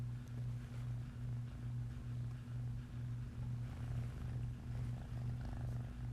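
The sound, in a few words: cat purring nearby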